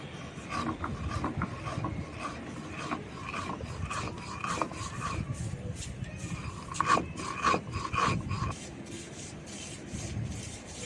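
Sugar and biscuits being ground into fine powder, a steady coarse rasping and rubbing grind with repeated scraping strokes, fairly close and moderately loud throughout.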